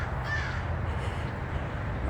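Crows caw from somewhere in trees during a morning walk in a lake preserve, giving a few faint, distant calls over a steady outdoor background hiss.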